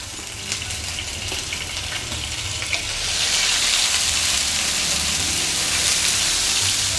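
Garlic paste sizzles in four tablespoons of hot oil in a pan for fried rice, a steady crackling hiss that swells louder midway and then holds loud and even, with no talking.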